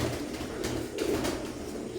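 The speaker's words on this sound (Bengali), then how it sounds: "স্ক্রিনে এখন যে কবুতর জোড়া দেখতে পাচ্ছেন, কেটিএম ব্লাড লাইনের এক জোড়া বেবি" A pair of young KTM bloodline teddy pigeons coo softly and continuously in a low murmur under faint room noise, with no voices.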